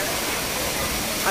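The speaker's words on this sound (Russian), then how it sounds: "здесь бьет вот такой вот громадный водопад из камня" A huge waterfall pours over rock at the Baldi hot springs near Arenal Volcano in Costa Rica, a steady, full roar of rushing water filling the short stretch without a break.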